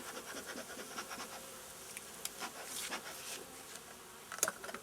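Bees buzz steadily in the background, with a few faint scratchy ticks and brief louder passes near the end, fairly quiet overall.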